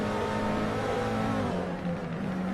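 Racing game engines of McLaren and Ferrari GT3 cars battling at Mugello, a dense, steady whine of revving motors, fairly faint, rising and dipping slightly as they run close together.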